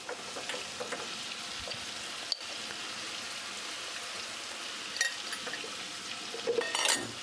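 Spices sizzling in oil in a pan as they are sautéed for a Bengali-style chal kumror dalna with turmeric and salt, a steady close crackle with occasional stirring clinks and a few louder sputters near the end.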